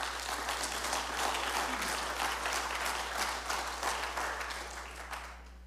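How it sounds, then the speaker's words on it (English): A church congregation applauding during a sermon, broad, dense clapping over a steady low hum, holding strong before gradually tapering off toward the end. "You can clap."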